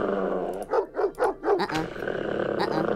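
A dog barking in the video game Neighbours from Hell (mod), a quick run of four or five gruff barks with a growly edge under steady game background sound and some talking.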